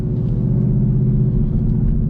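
A 2018 Mustang GT fitted with a new loud exhaust idles with a deep, steady, throaty rumble, close and continuous with no talk.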